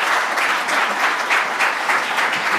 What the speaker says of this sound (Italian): vi chiederei di fare un applauso agli organizzatori